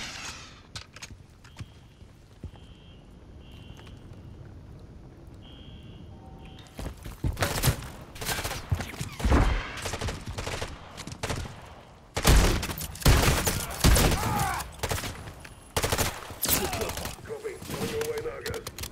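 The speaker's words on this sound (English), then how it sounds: "Stop shooting at me." Gunfire in Modern Warfare III starts as sparse distant shots, then turns into loud, dense bursts and volleys of rapid automatic fire, with footsteps and occasional voices in the mix.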